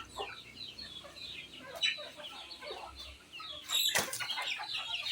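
Chickens being fed overripe boiled jackfruit cluck and chatter at close range, with scattered pecking, a burst of flapping wings and a few sharp squawks over a busy yard.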